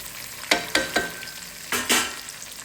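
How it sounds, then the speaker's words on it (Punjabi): Chopped onions sizzle in a hot pan for vegetable pulao, with a steady frying hiss and a few sharp scraping stirs close by; no one speaks. "ਇਹਦੇ ਵਿੱਚ ਪਿਆਜ਼ ਐਡ ਕਰਾਂਗੇ ਪਿਆਜ਼ਾਂ ਨੂੰ ਪਕਾਵਾਂਗੇ"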